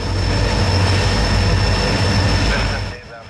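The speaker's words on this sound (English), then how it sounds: "The Rocky Mountaineer uses ex-Canadian National GP40-2 LWs for the train leaders and standard cab GP40-2s" A Rocky Mountaineer passenger train led by ex-Canadian National GP40-2LW and standard cab GP40-2 diesel locomotives rumbles past in the mountains, loud and close with steady wheel roar and a faint high squeal, fading near the end.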